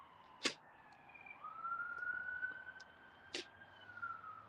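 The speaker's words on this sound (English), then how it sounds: "That was the ambulance right there" An ambulance or emergency vehicle siren sounds nearby with a steady high wail sweeping upward, broken by two sharp bursts at the start and near the end, over a low rumbling street background.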